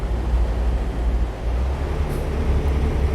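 A heavy truck engine in American Truck Simulator drones low and steady while straining uphill, rumbling continuously with a deep labored tone and no voices.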